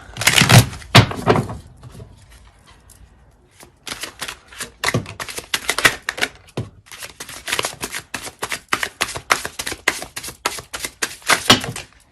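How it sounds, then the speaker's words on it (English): Tarot cards are riffled and shuffled in a rapid run of crisp, close slaps and flutters, a short burst first, then a pause and a longer dense stretch of rhythmic card snaps with no talking. "It's going to shuffle one more time."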